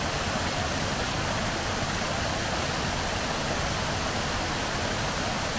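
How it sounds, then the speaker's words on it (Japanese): A small waterfall spills into a flowing river, giving a constant, dense rushing hiss that stays even and loud throughout with no voices. "憩いの滝とも言ってますけどね。"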